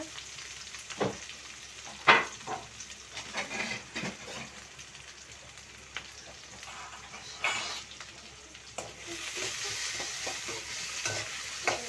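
Curry leaves, green chili and onion sautéing in a pan, with steady sizzling and frying under repeated scraping and stirring clinks of a spoon against the pan, fairly quiet and close.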